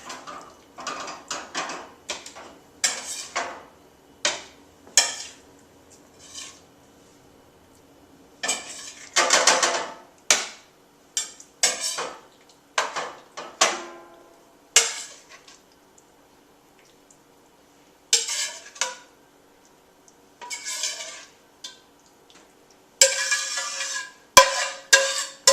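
Steak being plated with dishes and cutlery: intermittent clinks, scrapes and knocks of plates and utensils, close and clear, separated by short quiet gaps.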